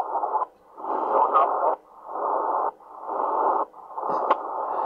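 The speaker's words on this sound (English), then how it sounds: "So as I shift 1 kilohertz, you'll hear the automatic gain drop and then come back up." A Tecsun PL-330 radio gives bursts of band hiss that keep dropping out and swelling back as automatic gain control pumps with each tuning step. Four or five even surges are separated by brief dips, with a faint click near the end.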